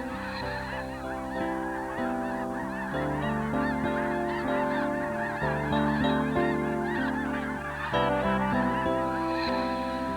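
A large flock of snow geese at Sand Lake refuge gives off a dense, continuous chorus of honking, loud and overlapping throughout with no break.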